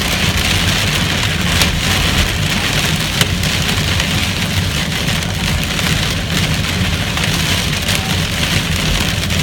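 Severe hailstorm in Plainfield, Indiana, with hailstones pelting surfaces in a loud, continuous roar of dense impacts, heard alone without talk.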